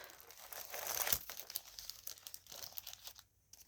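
Sticker packets crinkle and rustle close by as someone rummages through them, a busy run of soft plastic and paper crackles that thins out near the end, with no talking.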